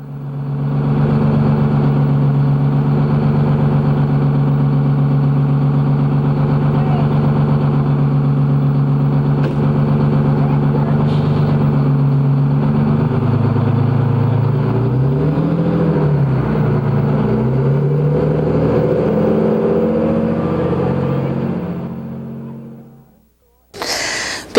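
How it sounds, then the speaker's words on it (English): A Berkley fire truck's engine idles steadily and loud, a deep throbbing drone that shifts and wavers partway through before cutting off abruptly near the end. "A Berkley fire truck was waiting to take him home"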